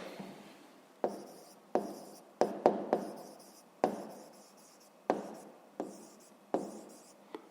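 Pen strokes scratch across paper as someone writes by hand during a 5th-grade maths exercise, each stroke starting with a sharp tap and fading quickly, faint and close in an otherwise quiet room.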